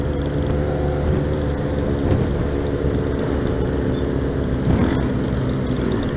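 A motorcycle convoy, including a Yamaha XJ6, rolls down the Imigrantes mountain highway near Morungaba with a steady engine drone, wind rush and passing vehicle noise throughout.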